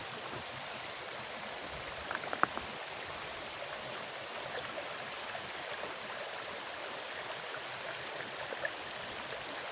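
River flowing past the Lingeshwar Dham temple in Kanchanpur, a steady broadband rush of moving water, even and continuous, with a few faint knocks near the start and no talk.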